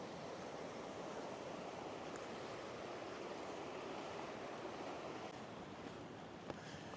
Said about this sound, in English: Just getting our first glimpse of the waterfall.